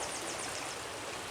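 A creek rushes steadily close by, a dense, even wash of flowing water with no breaks and no voices.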